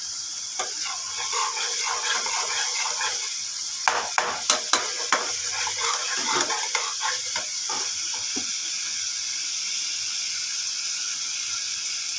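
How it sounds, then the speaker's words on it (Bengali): A spice masala with garlic fries in a pan for a banana flower and prawn bharta, making a steady hiss with a short burst of quick spatula scrapes and clicks near the middle, and no one speaking. "মশলাটাকে কষানো হয়ে গেলে পরে এবার ম্যাগি মশলাটা দিয়ে দিলাম"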